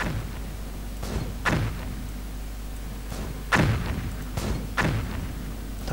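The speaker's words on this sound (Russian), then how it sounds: "вот артиллерия." Artillery fire in the browser war game Crisis: about five dull, thudding booms at irregular intervals over a constant low hum, moderately loud and with no voices.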